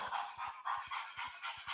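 A virtual dog in an augmented reality app pants rhythmically, quick breathy huffs repeating about every third of a second at close range and fairly quiet, with no talking.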